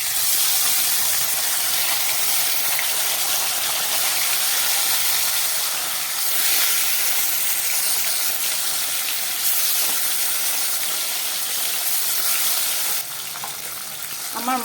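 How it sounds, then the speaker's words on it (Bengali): Pieces of bele fish fry in hot mustard oil in a kadai. The sizzle is loud, close and continuous, a steady hiss that dips slightly midway and softens near the end. "এবার মাছগুলোকে আমি ভেজে নেব"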